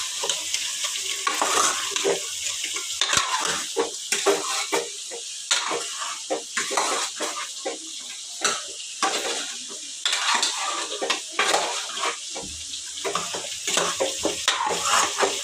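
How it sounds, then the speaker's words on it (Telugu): Mutton coated with salt, chili and turmeric is stirred in a pan, a busy run of scraping and clattering utensil strokes over a sizzling fry, close and continuous, no talk. "ఇంకొకసారి అయితే బాగా కలిపేస్తా మటన్ పట్టుకునేలాగా."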